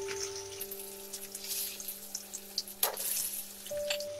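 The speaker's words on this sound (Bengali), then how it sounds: "তেল গরম হয়ে গেছে, এবার আমি মাছগুলো ভেজে নেব।" Rohu fish pieces frying in hot oil give a steady low crackle, with fine spitting sizzle and a few sharper pops and scrapes near the middle, under a faint steady hum.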